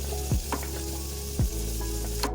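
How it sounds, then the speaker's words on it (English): Khichdi frying in a pan gives a steady close sizzle, broken by a few brief stirring or scraping sounds, with no talking. "So as a side dish, I am making khichdi for today."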